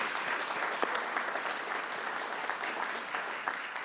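Audience applause during a 2023 State of the City address in Durham, a moderate, steady patter of many hands clapping, somewhat distant and continuing for a few seconds.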